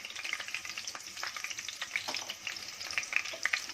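Three mild chillies frying in hot oil in a pan, a dense close crackling sizzle with scattered sharp pops and some stirring, no talking.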